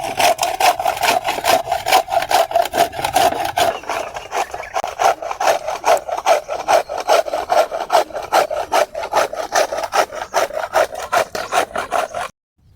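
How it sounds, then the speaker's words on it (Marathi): Fresh coconut being grated by hand for jaggery coconut barfi: a loud, fast, steady rasping scrape repeated in continuous strokes, close up, then stopping abruptly at the end. "आणि आता हे खोबरं किसून घ्यायचं आहे"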